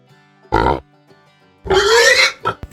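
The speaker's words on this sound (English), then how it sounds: "pig," A farm pig gives a short grunting oink, then after a pause a longer, louder squealing oink, with a couple of brief snorts at the end.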